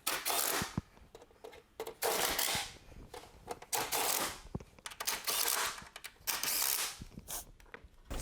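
Screws being tightened one by one on a 2004–2009 Toyota Prius ABS module actuator, sharp close ratcheting bursts in irregular spurts with short pauses between, no talking.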